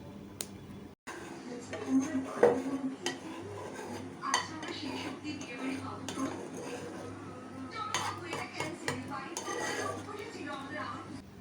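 A metal spoon scrapes and clinks steadily against a pot while milk with custard powder and sugar is stirred to thicken it, a continuous close rattle of utensil on cookware with a low hum beneath.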